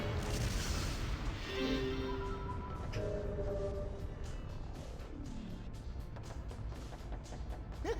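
An explosion in the game Killer7 booms loudly at the start, then a rumbling tail decays over several seconds while tonal game effects sweep and fade, with no voices.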